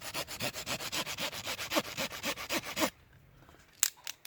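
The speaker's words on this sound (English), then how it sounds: "It's going to need a bit of sawing" A hand saw cuts through a thick firewood branch in quick, even back-and-forth strokes, about fifteen rasping passes, before stopping, followed by a couple of faint knocks.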